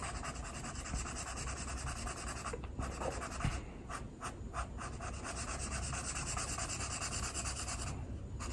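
Colored pencils rub over paper that has been colored with Parkoo permanent marker, giving a close, steady, scratchy shading sound made of repeated back-and-forth strokes with brief pauses.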